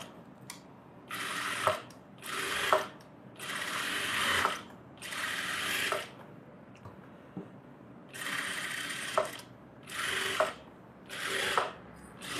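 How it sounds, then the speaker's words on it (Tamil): A sewing machine runs in repeated bursts of rapid mechanical stitching, edge-stitching the lining of a blouse, with short pauses between runs, close and steady, no talking. "இந்த லைனிங் எடுத்துட்டு ஒரு எஜ்ஜு தையல் போடுறேன்"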